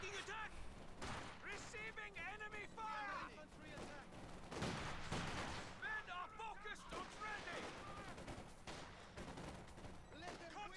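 Gunfire and explosions in the Company of Heroes 2 strategy game during a 2v2 match, bursts of shooting mixed under continuous excited talk and in-game voices.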